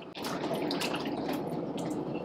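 Goat fiber is pressed down into a basin of water, giving soft close splashing and trickling with drips and sloshing, steady and quiet without talk.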